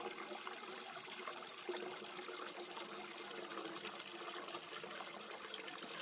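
Water gushes steadily from an older hose faucet into a partly filled bucket, a continuous even splashing and rushing that stays close and fairly quiet throughout, with no voices.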